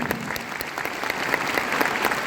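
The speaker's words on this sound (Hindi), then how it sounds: "एक बार इस शानदार प्रोडक्ट के लिए तालियां हो जाए।" Audience applause for a Spirulina product at a Vestige sales talk, a steady wash of many hands clapping throughout, fairly loud and close, with no speech over it.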